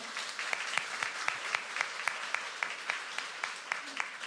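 A church congregation at a Christmas service claps in steady unison after a choir performance with organ and piano, a fairly quiet, evenly spaced beat of many hands.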